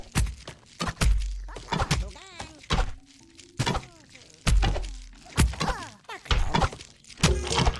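Warriors in the fantasy strategy game Goblins of Elderstone firing at approaching goblins: a series of sharp thunks and impacts at irregular intervals, with scattered higher twangs and brief game tones between hits.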